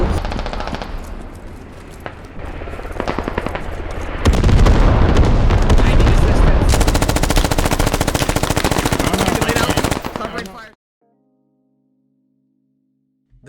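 In the military shooter game Squad, sustained machine-gun bursts rattle alongside heavy booming explosions, growing louder and denser midway through before cutting abruptly to near silence, with a faint tone and a final small click.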